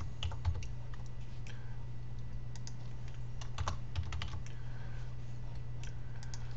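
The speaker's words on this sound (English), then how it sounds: "I'm going to come in here and I'm going to type in his name" Rapid, irregular clicking of keys on a computer keyboard, fairly close, with a low steady hum underneath, as a name is typed into a contact form.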